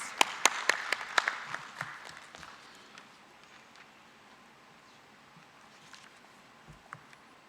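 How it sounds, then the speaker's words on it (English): Sparse, faint applause from a small audience greeting a speaker at a regional meeting in Tanzania, a handful of distinct claps at first that quickly thin out into quiet room noise. "Can we give him a round of applause, please?"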